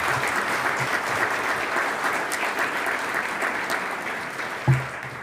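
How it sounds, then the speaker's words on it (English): Steady, dense applause from an audience at a county government State of the County address fills the room, with one sharper clap-like thump near the end and no talking. "again, a big round of applause"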